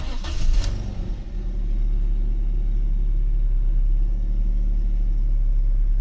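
A first-owner BMW 318Ci with 533,000 km idles close by, a steady low mechanical rumble that settles after a brief, louder burst of engine noise at the start and then holds evenly, with no talking.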